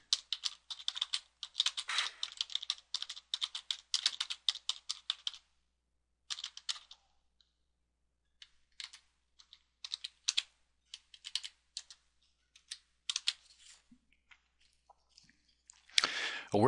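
Typing on a computer keyboard, close and clear, in quick rapid-fire bursts separated by pauses, ending with a louder rustle, and no one speaking.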